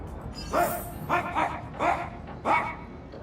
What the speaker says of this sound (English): Guess we gotta go investigate the dog.